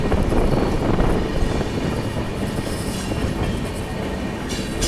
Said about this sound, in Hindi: ये ट्रेन ओवरटेक तो मार रही है, पैरेलल रेस भी हो रही है एक तरह से।